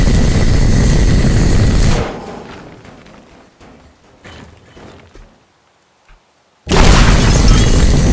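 Explosions destroying a voxel map in the video game Teardown, a loud sustained roaring blast that dies away into scattered debris rumbles and near silence before another sudden heavy boom erupts.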